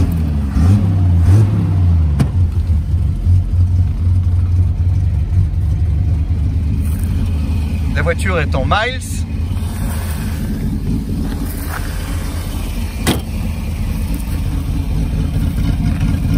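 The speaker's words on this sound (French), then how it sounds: "Voilà au volant de la TR6 qu'on va démarrer." A 1973 Triumph TR6 with a recently renewed exhaust and an overhauled fuel pump and ignition runs at a steady, close idle, its low engine rumble continuous, with a brief spoken line partway through.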